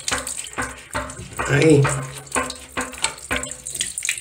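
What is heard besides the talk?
water falling during toilet tank repair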